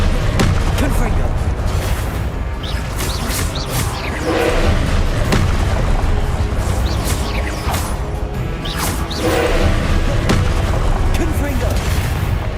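Confringo blast spells explode repeatedly during combat in a Hogwarts video game, loud overlapping booms and crashes in quick succession with sharp bursts, under ongoing talk and shouting.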